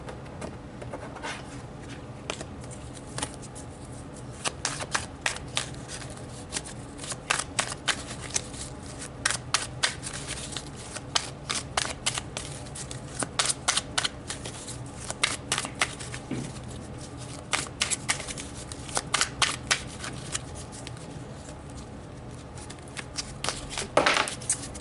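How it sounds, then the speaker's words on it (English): Tarot cards shuffled by hand, a steady run of crisp riffling snaps and soft slides repeating close up for most of the stretch, with no voices. "So let's pull some tarot cards to clarify."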